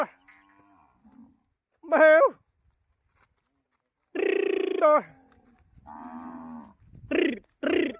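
Several drawn-out moos from thirsty cows brought to water sound one after another with short pauses between them, fairly close and clear against a quiet background.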